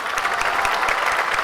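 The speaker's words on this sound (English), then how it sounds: "Let's give a round of applause for that" A brief burst of applause sound effect plays on a podcast, a steady, dense clatter of clapping with no talking.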